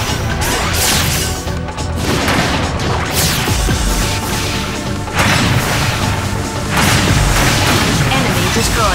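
Enemy destroyed in the video game Zone of the Enders 2: heavy booming explosions and crashes over a dense, loud game soundtrack, continuous throughout.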